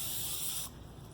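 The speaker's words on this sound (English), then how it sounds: "So we're going to spray our pan and have it all ready." Cooking spray hisses onto an 8x8 baking pan in a short steady burst that stops abruptly partway through, leaving a quiet kitchen hush.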